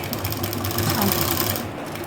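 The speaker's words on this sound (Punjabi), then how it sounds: "ਹੁਣ ਇੱਥੋਂ ਮਸ਼ੀਨ ਇਸ ਤਰ੍ਹਾਂ ਸੂਈ ਵਿੱਚ ਰੱਖ ਕੇ ਘਮਾਉਣੀ ਆ" A sewing machine runs steadily while stitching a neckline design on a simple suit, a continuous close mechanical whirr with rapid needle rhythm held for the whole stretch.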